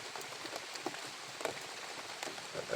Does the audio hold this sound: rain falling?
yes